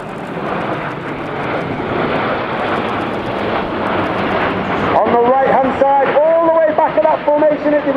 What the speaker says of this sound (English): In from the right, in honour of their 20th anniversary, this is the Typhoon Roll.